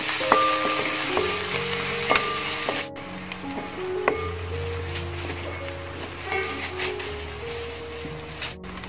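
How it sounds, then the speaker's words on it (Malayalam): Sliced onions with salt fry in a pan for a Kerala fish curry, a moderate sizzle under intermittent clinks and scrapes of a spoon against the pan, with musical tones running over the whole stretch. "ഇനി അത് നന്നായിട്ടൊന്ന് വഴറ്റിയെടുക്കാം"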